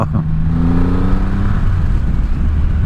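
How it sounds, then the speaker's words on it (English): A heavy car engine revs with a deep, rising rumble that holds steady, loud and close, with no voices. "It sounds like a very uh, heavy displacement. It sounds like like a car."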